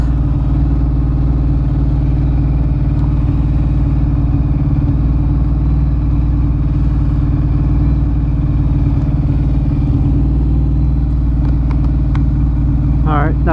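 A Ducati Monster 1100 EVO motorcycle's engine runs steadily and loudly throughout a ride through New York City, with a constant low rumble and wind, and a voice briefly heard toward the end.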